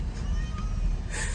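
Mister Kitty, a sick cat, lets out a drawn, strained meow close by, rising into a higher wail near the end.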